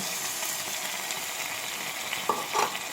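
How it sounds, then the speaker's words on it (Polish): Tuna and tomatoes fry on low heat in a pan, giving a steady close sizzle with a couple of faint stirring clicks near the end. "I na wolnym ogniu to wszystko ładnie sobie odsmażamy"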